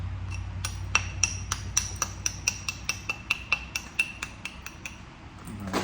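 Sharp, regular clicks and taps of a knapping tool striking Tallahatta quartzite as a stone is thinned, around twenty crisp ringing hits in steady rhythm, close and clear over a low background rumble, with no talk.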